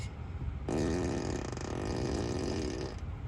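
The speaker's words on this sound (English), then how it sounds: "This is fart on demand." A Tesla Model 3's fart-on-demand sound effect plays from inside the car, one sustained, buzzy, flatulent blast lasting over two seconds, loud and close, with no talk over it.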